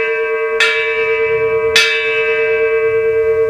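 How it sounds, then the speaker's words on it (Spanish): Cathedral church bells ring out in two clear, loud strikes about a second apart, each leaving a long shimmering tonal decay that hangs in the air. "existían las campanas de la catedral"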